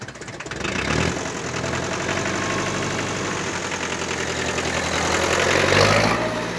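A McCormick D-436 tractor's diesel engine idles close by, a steady, loud, knocking chug that holds for several seconds with a slight swell near the end and no talk over it.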